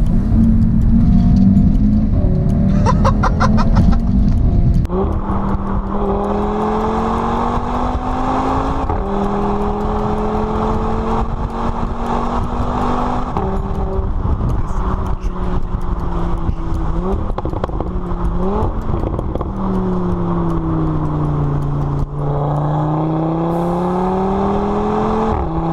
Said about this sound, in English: It's just the speed this car takes off at is unbelievable.